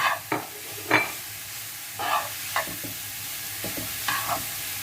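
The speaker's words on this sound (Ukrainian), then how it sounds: "додаємо сюди помідорку, щоб пустили сок, теж обжаримо раз" Beetroot and tomatoes frying and being stirred in a pan for Ukrainian red borscht, with a steady low sizzle broken by several sharp scraping stir strokes, close and fairly quiet, with no voices.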